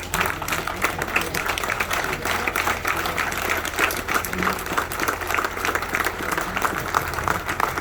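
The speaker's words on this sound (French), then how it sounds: "On va s'élever pour applaudir pour lui." Dense standing ovation applause from a large crowd at a funeral, steady and sustained, with some voices mixed into the clapping.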